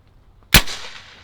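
A single sharp airgun shot from a Pinty P-Force firing a .2175 caliber 20.2 grain slug into ballistics gel: one close crack with a brief fading tail after near silence.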